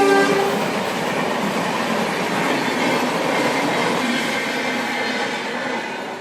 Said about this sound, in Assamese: এতিয়া ৰেল গৈ আছিলে, মানে ট্ৰেইন গৈ আছিলে।